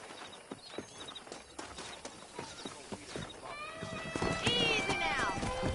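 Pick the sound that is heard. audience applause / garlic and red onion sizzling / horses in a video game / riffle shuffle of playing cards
horses in a video game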